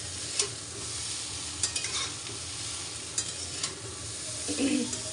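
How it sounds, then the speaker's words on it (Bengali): Chow mein noodles stir-fried hard in a hot pan, a steady broad sizzle with scattered scraping clinks of the spatula, moderately close and without talk. "এবার চাউমিনগুলো সব দিয়ে দিলাম দিয়ে একটুখানি ভালো করে ভাজবো কড়া করে করে ভাজবো"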